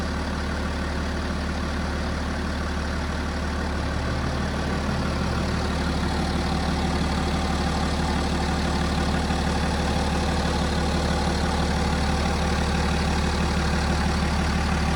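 A BMW X5 3.0D diesel engine idles steadily and smoothly, a loud, constant low rumble with even texture throughout and no voices.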